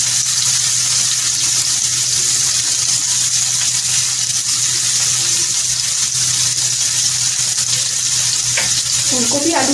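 Cauliflower florets and potato pieces frying in hot oil with a little salt, a loud, continuous close-up sizzle with occasional stirring scrapes and a brief clatter near the end.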